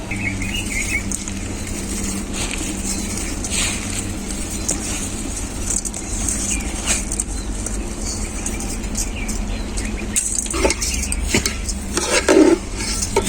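Rice, soaked mixed lentils and spices are stirred and sautéed together in a pot for khichuri, a spoon scraping and clinking against the metal in a steady, continuous rhythm with a faint background hum.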